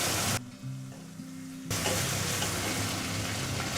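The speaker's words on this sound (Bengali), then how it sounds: "চিংড়ি মাছটা একটু নেড়ে চেড়ে দেবো যাতে ভালো ভাজা হয়।" Prawns fry in oil in a pan: a short dip with a low hum, then a strong, close, continuous sizzle as they are stirred.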